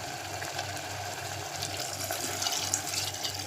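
Water pours steadily into a cooking pot in a home kitchen, a faint continuous splashing flow with a soft low hum underneath, no voices.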